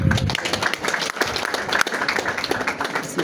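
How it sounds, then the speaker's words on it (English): An audience applauds a guest of honor at a preparatory school in Mbarara, Uganda, with dense continuous clapping from many hands filling the whole stretch. "So another big hand clap for our guest of honor."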